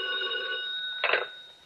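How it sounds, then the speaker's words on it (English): An old telephone bell rings in a radio crime drama, a single bright metallic ring with a sustained tone, cut by a short rattling clatter near the end before fading, heard clearly with no voices. "when the phone rang"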